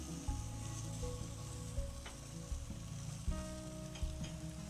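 Chili shrimp sizzle on an outdoor grill just after being flipped, giving a steady hiss of frying with occasional soft knocks and pops, close by, while a low hum runs underneath and nobody talks.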